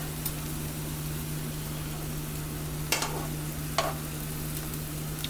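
Sausages fry in a pan with a soft, steady sizzle beneath a constant low hum, broken by two short, sharp crackles near the end; nobody speaks.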